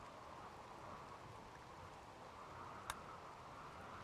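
Steady rain pouring down in the RimWorld video game, a dense, even hiss running throughout with one brief sharp tick near the end.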